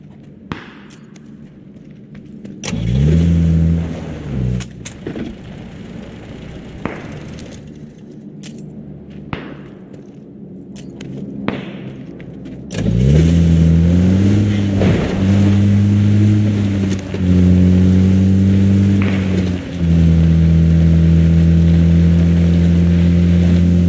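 A vehicle engine in the video game PUBG hums and revs, its pitch sliding up and down, loud and close, with quieter clatter and thumps beforehand and no talk.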